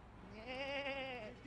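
A goat bleats once in a long, wavering, nasal cry lasting over a second, loud and close, with no talk over it.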